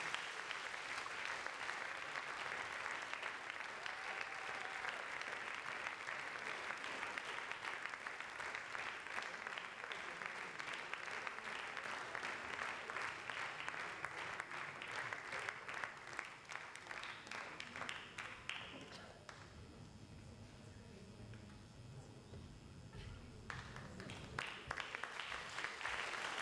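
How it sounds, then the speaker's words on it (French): Sustained audience applause fills a French science-communication competition hall, dense and steady clapping that thins slightly near the end without voices over it. "Et je vous demande de les applaudir"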